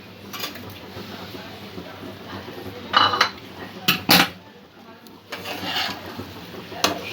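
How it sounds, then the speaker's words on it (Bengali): Bread pieces tossed with spices and vegetables in a pan for bread pulao, with steady scraping and clinking of a spoon against the pan and a few sharper knocks. "সব উপকরণগুলো ভালো করে একটু মিক্স করে নেব"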